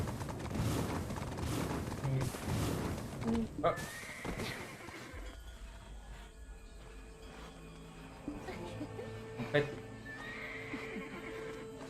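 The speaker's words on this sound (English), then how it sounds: "I knew there was a way to pet your horse." A horse in a video game whinnies while being petted, loud and close at the start, followed by quieter game sounds and a few short tones, with people talking throughout.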